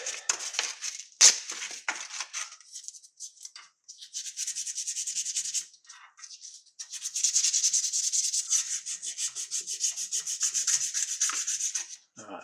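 Sandpaper rubbed by hand across a surface in bursts of scratchy back-and-forth strokes, with short pauses between passes, close and fairly loud.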